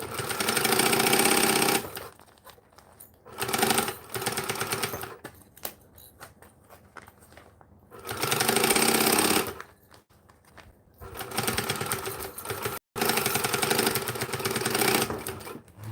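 Sewing machine stitching and backstitching through fabric in loud bursts of rapid mechanical whirring, separated by short quiet pauses, with no voices.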